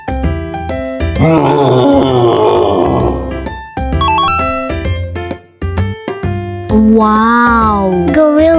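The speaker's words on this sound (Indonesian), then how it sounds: "wow, Bear." A bear growls and grunts in a loud, deep, rumbling roar, layered over cheerful background music in a children's animal game, sustained for several seconds.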